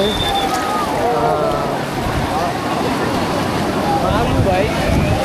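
Sea waves roll onto the sand at Cox's Bazar beach, a continuous close surf wash with steady wind buffeting the microphone and faint voices in the background.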